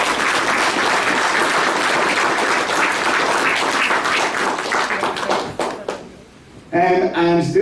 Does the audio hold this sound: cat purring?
no